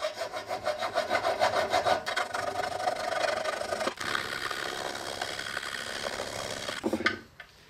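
Hand file chamfering the bar of a vintage Pioneer P41 chainsaw: rapid, close rhythmic rasping strokes, steady back-and-forth scraping of metal that continues with little pause before stopping abruptly.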